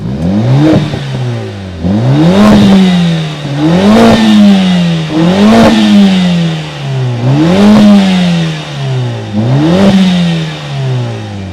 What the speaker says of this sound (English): we have to hear the exhaust sound because it sounds really, really good.